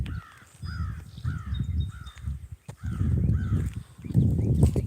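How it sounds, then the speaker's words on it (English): A bird repeatedly gives short, harsh warning calls, about six evenly spaced cries, fairly close, over a low outdoor rumble. "I don't know what kind of bird that is."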